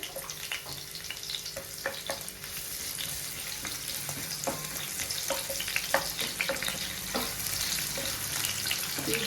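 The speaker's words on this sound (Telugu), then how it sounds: "స్పైసెస్ అండి ఇవి లైట్గా ఫ్రై అయిన తర్వాత పక్క ఆనియన్స్ ఫ్రై అయిపోతాయి" Spices, cashews and onions fry in hot oil in a pan, a steady close sizzle broken by frequent clinks and scrapes of a stirring spoon.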